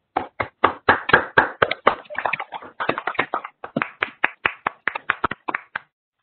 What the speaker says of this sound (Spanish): si gustan de nuevo activar sus micrófonos para darles un fuerte aplauso a los ponentes